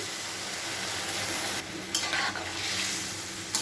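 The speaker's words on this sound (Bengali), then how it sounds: "কষানো হয়ে গেছে, আমি এবার জল দিয়ে দিচ্ছি।" A shrimp and taro curry frying in a pan, sizzling steadily and loudly up close, then a sudden burst of hissing and bubbling as water is poured in, with a few stirring knocks.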